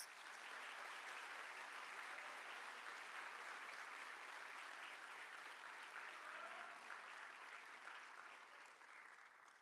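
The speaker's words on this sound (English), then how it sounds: "Let's give these students another round of applause." Sustained applause from an audience at a high school awards night honoring students, a dense steady clapping wash that holds evenly before tapering slightly at the end, with no voices over it.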